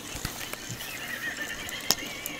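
A horse neighs, a faint whinny with a few sharp clops and knocks, heard at a distance against a steady background hum.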